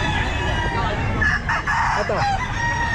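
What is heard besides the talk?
gamefowl roosters crowing, white hatch and gray hatch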